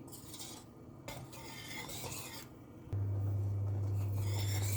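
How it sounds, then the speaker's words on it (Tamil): Chocolate cake mixture is stirred steadily in a pan over low heat, a soft rasping scrape of utensil against pan, joined midway by a constant low hum. "இந்த மாதிரி கிளறி விட்டுட்டே இருக்கலாம்."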